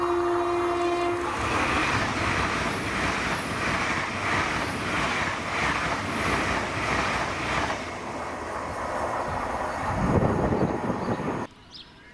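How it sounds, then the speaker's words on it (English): LNER train 800-111, a London King's Cross to Aberdeen service, sounds its horn briefly then rushes past at Monifeith in a loud, sustained rumble with rhythmic wheel clatter before cutting off. "this is 1W11, the 1550 LNER service to Aberdeen from London King's Cross of 800-111."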